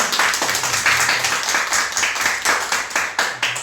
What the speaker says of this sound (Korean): 우리 다 같이 환영과 격려의 박수 한번 할까요?